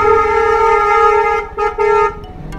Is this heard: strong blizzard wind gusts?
no